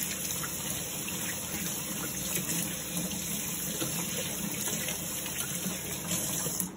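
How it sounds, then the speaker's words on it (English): Tap water runs steadily into a sink while hands are rinsed, a constant splashing gush that carries on evenly throughout with no voices. "And then we rinse our hands with water."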